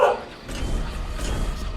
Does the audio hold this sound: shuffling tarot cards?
no